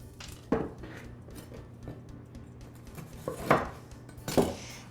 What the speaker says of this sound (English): So let's get our second loaf here off the pan.